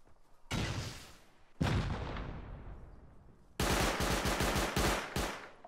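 Gunfire in the video game Rust: loud bursts of rapid automatic shots, with one long sustained volley, a decaying blast, then a fast rattling stream of close shots.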